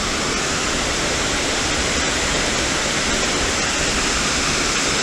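The Badalgiri waterfall roars steadily at close range, a loud, unbroken wash of falling water filling the whole stretch with no voices.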